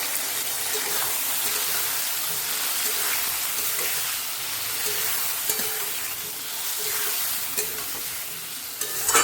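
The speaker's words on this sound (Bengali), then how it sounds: "আলুটা বেশি কড়া কড়া ভাজা হয়ে গেছে" Potatoes sizzling and frying crisp in a pan, with scraping stirring strokes and a few clinks against the pan, no talking.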